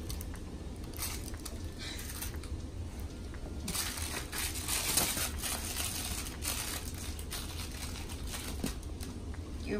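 A dog tears at a Bark Box package, producing continuous crinkling, crunching cardboard and paper rips in quick irregular bursts, fairly close and moderately loud, with no talking.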